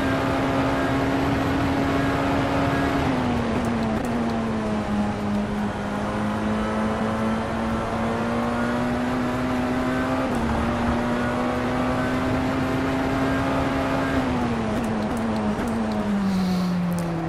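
Engine of a Tatuus F3/F4 race car in the racing sim rFactor 2, a loud continuous whine that rises and falls with revs, with a few sharp downshift dips and blips along the way.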